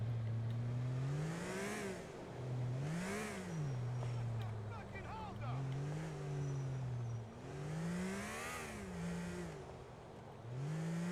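Car engine in Grand Theft Auto IV revving and accelerating in repeated rising sweeps through gear changes, each climb dropping back before surging again, a steady mid-distance engine drone.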